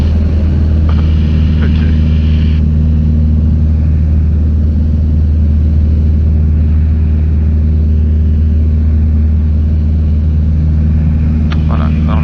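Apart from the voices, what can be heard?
light aerobatic airplane engine accelerating at full power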